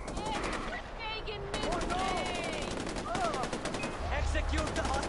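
Rapid gunfire in the Far Cry 4 video game, bursts of automatic shots rattling steadily through the whole stretch, with a low rumble near the end.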